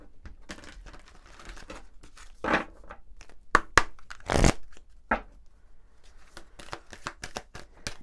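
Oracle cards from a forest deck are shuffled close by, with soft riffling, flicking and papery slaps in irregular bursts, quiet apart from a few louder snaps.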